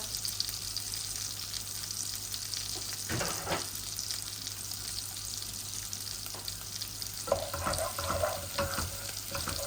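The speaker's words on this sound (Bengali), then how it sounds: "এখন আমি মাছগুলা বসাই দিই।" Koi fish fry in a little oil with garlic, giving a constant close sizzle, with a few scraping stirs and clinks partway through.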